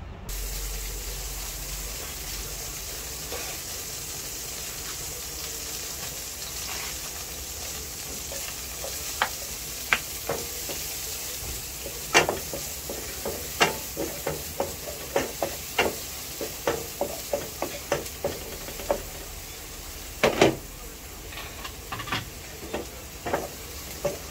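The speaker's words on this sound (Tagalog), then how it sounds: "Magigisa na tayo." Garlic sautéing in a pan for Filipino mung bean stew, a steady soft sizzle broken by irregular scraping stirs and clinks that grow more frequent toward the end.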